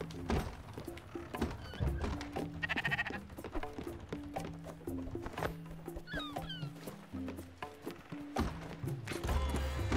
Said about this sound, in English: Let's go check on our sheep.